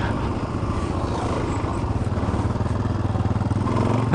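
Dirt bikes, including an XR 650 and a DRZ 400, ride a small motocross track, their engines throbbing loudly and close in a pulsing, revving roar that holds throughout without talk.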